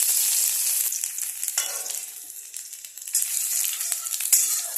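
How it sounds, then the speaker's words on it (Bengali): Dried red chillies and chopped garlic crackle in hot oil, a loud close hiss and sputter that eases for a moment midway and then flares again with scraping stirs. "তো তেল গরম হয়ে গেছে, আমি এখানে শুকনো লঙ্কা ফোড়ন দিয়ে দিলাম। তার সঙ্গে দেব রসুন কুচি।"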